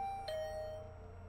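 Doorbell chime in the video game The Hundred Line -Last Defense Academy-, one clear electronic ding that rings out and slowly fades, heard alone over a quiet background hum.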